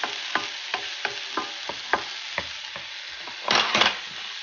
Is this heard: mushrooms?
yes